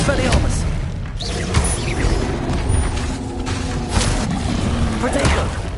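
Hogwarts Legacy combat in which the Expelliarmus disarming spell is cast, bringing a run of booming magical blasts and crashes at a loud, close level, with a voice speaking over them.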